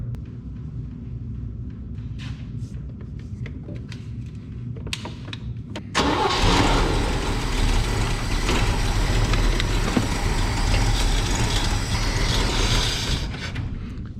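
A 1974 IH Scout, parked since the 1980s, cranks with a few starter clicks, then catches at about six seconds and runs roughly with a loud, steady, uneven idle to the end.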